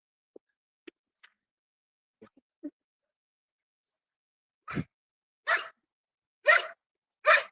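A dog barks four times in a steady, fairly loud sequence after a few faint, scattered small sounds, with no talking over it.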